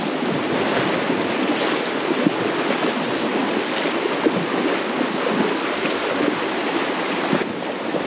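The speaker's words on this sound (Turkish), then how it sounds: "Bu nehir Palomino Nehri." The Palomino River flows in a steady, loud, broadband rush of moving water during a mule crossing in the mountains, continuous and close with no voices.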